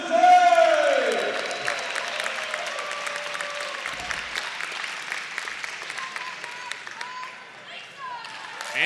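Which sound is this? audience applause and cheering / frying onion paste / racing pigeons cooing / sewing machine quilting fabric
audience applause and cheering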